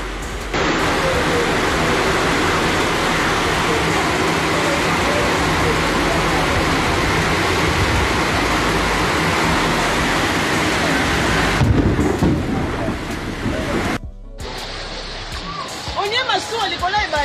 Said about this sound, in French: Suivez ces images de la pluie diluvienne du mercredi 17 avril 2024.